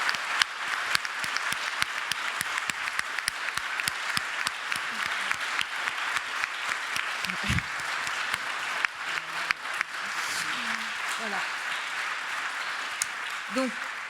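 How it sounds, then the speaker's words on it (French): An audience at a climate debate applauds two guest speakers, a physicist and an energy expert, with sustained, dense clapping punctuated by sharper individual claps and a few scattered voices rising briefly through it. "un grand merci à Étienne Klein et à Jean-Marc Jancovici, que je vais vous demander d'applaudir"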